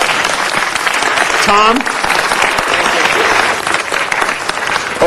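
Audience applause fills a city council meeting, a steady wash of clapping from the room with a voice calling out briefly over it.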